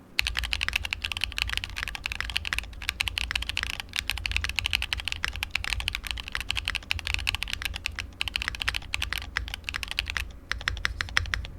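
Rapid, steady typing on a Daring Run Flip-6P mechanical keyboard with bronze switches and a heavy spacebar, crisp clacking keystrokes in a continuous stream with a few brief pauses, close and fairly quiet.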